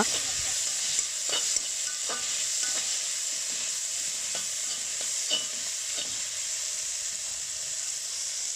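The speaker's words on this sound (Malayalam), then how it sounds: "അതിനുശേഷം ഇതിലേക്ക് തക്കാളി ചേർത്തതിന് ശേഷം നന്നായി വഴറ്റി കൊടുക്കുക" Tomatoes sauté in a pan with a steady, soft sizzle and hiss, broken by occasional scraping clicks of stirring, fairly faint and without talk.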